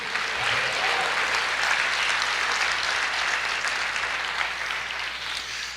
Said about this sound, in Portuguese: Você pode aplaudir o Senhor, você pode dizer eu creio.